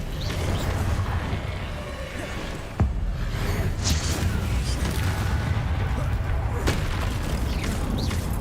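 Combat spells cast in the Hogwarts Legacy video game: sharp booms and whooshing bursts, one crisp impact near the three-second mark and others scattered across, loud over a busy rumbling game background with a voice speaking intermittently.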